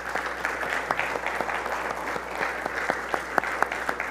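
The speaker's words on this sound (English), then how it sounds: "so I'd like to give them a round of applause." Church congregation applauding in a sanctuary, a steady wash of many hands clapping with sharp individual claps standing out, fairly close and continuous for the whole stretch.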